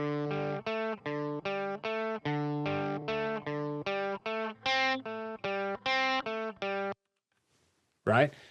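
Electric guitar played through an amplifier plugin in a punk and classic rock session, a run of evenly picked, lightly driven notes in a steady rhythm, close and clear, ending with a brief noisy burst after a pause.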